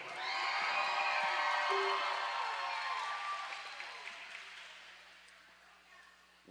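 A crowd applauds and cheers at a junior roller derby bout in Rose City, loud at first and then thinning out over several seconds into scattered claps.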